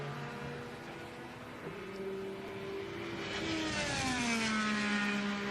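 An IndyCar race car engine during open testing at Indianapolis Motor Speedway for the 2025 Indianapolis 500 holds a steady high whine, then drops sharply in pitch as the car roars past, loud and close, with no talk.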